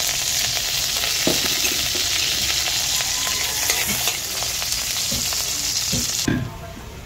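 Garlic sizzles in a small amount of hot oil in a pan, a steady close crackling hiss with occasional stirring knocks, and the sizzle drops off abruptly near the end.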